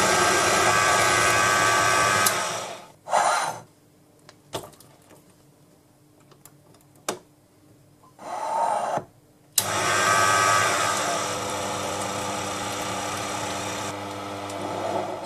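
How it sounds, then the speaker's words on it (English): A Proxxon PD 250 e benchtop lathe turns a steel tap down to size with a steady motor whine and cutting hiss. Several short pauses and brief restarts break up the long running passages. "Back on the lathe, I brought the final part of the diameter down to size"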